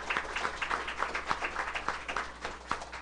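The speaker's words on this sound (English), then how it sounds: "applause goes to Deborah Watts" Clapping from a school board meeting audience in honor of Deborah Watts, a steady patter of many hands with regular sharper peaks, moderately loud and continuous throughout.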